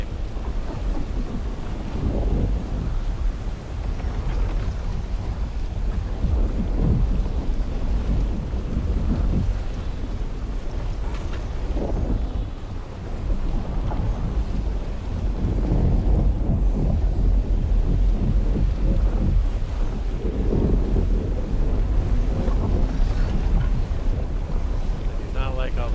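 Stormy wind and rumbling thunder in the Dune Awakening video game, a steady loud low roar with heavier surges and swells throughout, with faint talk mixed underneath.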